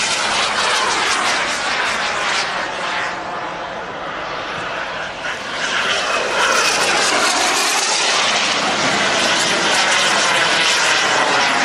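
A giant radio-controlled Dassault Rafale scale model with a turbine jet engine makes a slow, low pass from right to left, its loud jet roar and whine swelling and fading, with a commentator talking over it.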